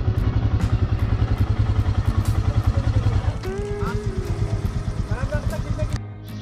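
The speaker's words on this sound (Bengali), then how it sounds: "এই অফ রোডের মধ্যে আমাদের বাইক চালিয়ে বাইকের ইঞ্জিনও গরম হচ্ছে" A motorbike engine thuds in a fast, rhythmic pulse while climbing a rough off-road track on the way to Kaho village near Walong, then eases and cuts off near the end. Voices speak over the engine noise.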